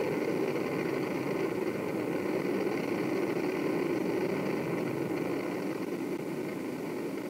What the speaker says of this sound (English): Pretty good engine, throttling back to 2/3 of the rate of thrust.